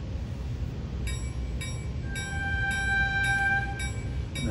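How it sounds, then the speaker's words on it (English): A low rumbling model train departs, with evenly spaced bell dings and a sustained horn tone from a sound controller joining partway through. "And now the train leaves."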